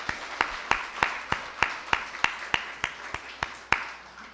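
A church congregation claps together during a Sunday service, a brief round of evenly spaced, fairly sharp claps with a quieter spread of applause beneath, fading at the end.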